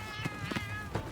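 A cat meows close by in a short run of quick, repeated whining cries, with no talking over them.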